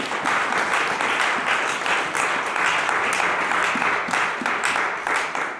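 A church congregation breaks into sustained, dense applause during a French-language sermon, many hands clapping steadily from across the room.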